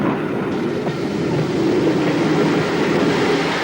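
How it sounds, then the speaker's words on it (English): A Southern Railway L1 steam locomotive backs onto a train at Brighton Station, giving a loud, steady rumble of rolling rail stock with faint wheel clatter. "one of Mansell's previous 440 design, an L1, backing onto the train at Brighton Station"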